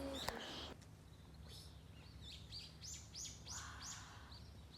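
A bird calls inside an indoor rainforest, repeated bright chirping notes rising over a steady hum of ambient room noise, moderately close, with no talk.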